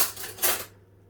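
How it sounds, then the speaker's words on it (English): A big spoon clinks briefly against dishes of hotdog, tomato and bacon pasta bake, two or three close metallic taps that fade quickly into quiet. "Gonna have to just grab a big normal spoon"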